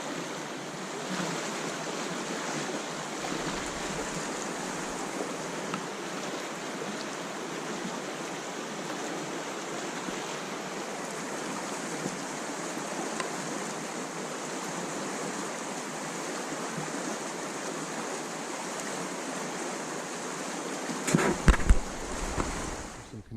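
Constant rushing water of a mountain stream near Fraser, Colorado flows steadily throughout, a broad even wash of sound, with a brief knock of handling noise near the end.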